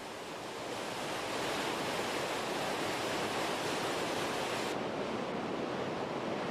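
A huge European waterfall, about 480 metres tall in three drops of nearly 200 metres each, gives a loud, unbroken broadband roar of falling water with no voices.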